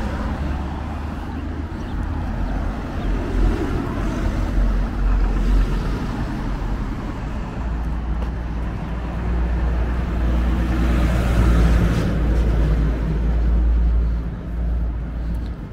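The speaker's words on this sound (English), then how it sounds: "We're getting into a slightly busier area, plenty of traffic" Steady car traffic on a busy suburban street in Downend, a constant low rumble of passing vehicles that swells briefly near the end, close and fairly loud with no voices.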